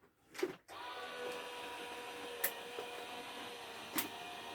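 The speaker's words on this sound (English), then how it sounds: "I'm just going to pass those through my die cutting machine" A Gemini die cutting machine runs on a crafting desk, giving a steady mechanical hum throughout with a few faint clicks, after an initial brief burst of noise.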